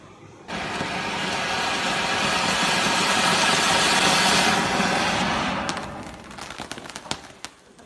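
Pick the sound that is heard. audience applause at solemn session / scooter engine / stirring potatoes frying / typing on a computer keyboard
scooter engine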